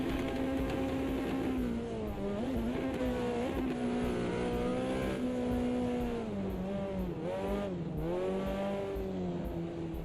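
A Ferrari race car engine in the racing sim Automobilista 2 whines steadily near and loud, its pitch dipping and climbing through gear changes and throttle lifts, with no voices.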